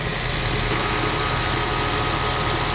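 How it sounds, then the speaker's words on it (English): A Toyota Prius air conditioning compressor runs with a steady, even hum and faint whine over a constant broadband drone, close and unbroken, with no talk. "If you listen to that compressor"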